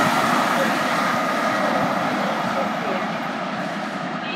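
Class 66 diesel locomotive 66075 passes as a steady, loud rumbling roar of engine and wagons that stays even throughout, with no clear voices.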